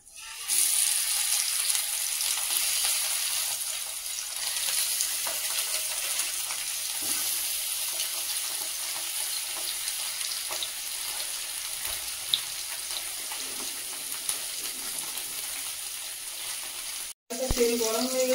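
Fish sizzles steadily in hot oil in a pan, a continuous close crackling hiss with scattered pops running almost unbroken, briefly cut near the end before resuming.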